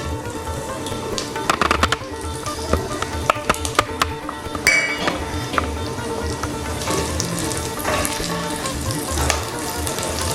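Whole spices, broken cinnamon stick, small green cardamom, cumin seeds and cloves, frying in hot oil in a Bengali kitchen, a steady close sizzle with scattered crackles and metallic clinks of stirring throughout.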